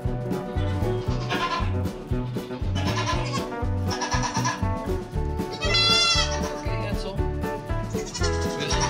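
Young goat kids bleat repeatedly during bottle feeding, overlapping nasal cries in quick bursts, close and fairly loud, with a few higher drawn-out calls near the end.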